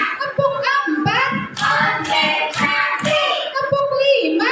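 Children clap hands in a steady counted rhythm, close and lively, mixed with voices singing or chanting along.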